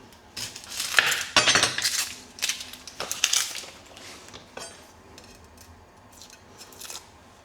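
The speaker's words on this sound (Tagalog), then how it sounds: "First, let's cut the onion." A knife slicing through an onion on a cutting board for scrambled eggs, giving a run of crisp, close chopping and crunching strokes in uneven bursts that thin out toward the end, with no talk.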